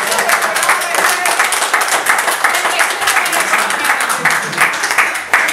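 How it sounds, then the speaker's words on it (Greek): Loud, sustained applause from a crowd fills a municipal council meeting, with dense clapping that stays steady for several seconds and dips only slightly near the end. "απαγορεύεται τα χειροκροτήματα"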